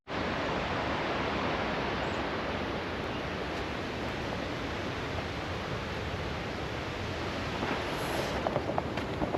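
A rushing mountain stream and waterfalls on the Big Pine Lakes trail, a steady, loud broadband roar of heavy flowing water that fills the whole stretch without a break.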